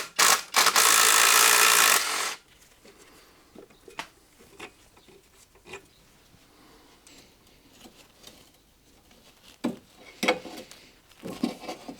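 Tool work on the lower ball joint pinch bolt of a Renault Twingo Mk1, opening with a loud two-second burst of a power tool, then scattered metallic taps, clicks and handling noises at close range.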